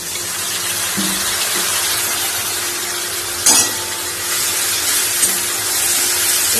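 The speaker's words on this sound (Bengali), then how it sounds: "এর মধ্যে আমি একটু সামান্য পরিমাণে জল দেবো, যাতে মশলাটা পুড়ে না যায়।" Water splashes into ground spices frying in a pan while cooking loach fish, raising a steady loud sizzle with stirring scrapes and a sharp burst partway through.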